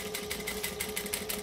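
A sewing machine runs a short back stitch on plush minky fabric at an eighth-inch seam, a steady close mechanical whir with faint pulsing.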